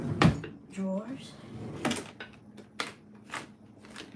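Wooden drawers sliding open and shut with knocks and rattling contents during a search through kitchen drawers, several close thumps spread across the clip while a person talks over them.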